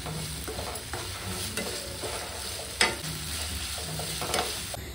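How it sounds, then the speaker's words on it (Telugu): Freshly ground ginger-garlic paste with curry leaves fries in a pan for chicken biryani, giving a continuous low sizzle broken by scraping stirs and an occasional sharper clatter of the spoon. "ఫ్రెష్గా గ్రైండ్ చేసి పెట్టుకున్న అల్లం వెల్లుల్లి పేస్ట్ 2 స్పూన్లు వేసి పచ్చివాసన పోయేంత వరకు ఫ్రై చేయాలండి"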